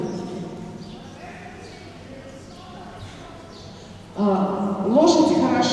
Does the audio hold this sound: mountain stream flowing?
no